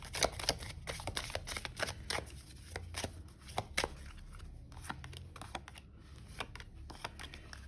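Tarot cards shuffled and pulled from the deck in a rapid run of crisp riffling flicks and slaps, close and moderately loud, with no talking.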